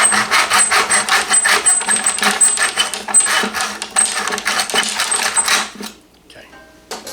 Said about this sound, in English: take our miter box, right, and we're going to cut it square with our cross-cut saw